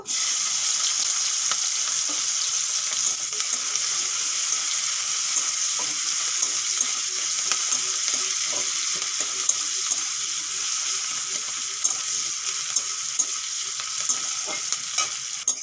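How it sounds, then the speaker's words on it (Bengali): Thickly sliced onions with nigella seeds frying in hot oil for an egg and potato curry, a loud continuous hiss with frequent stirring clicks and scrapes, close up and with no voices. "পেঁয়াজগুলো এইভাবে ভেজে নিয়েছি"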